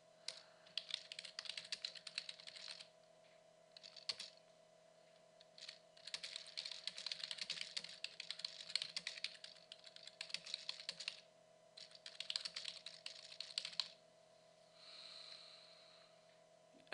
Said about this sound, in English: you can write teacher's note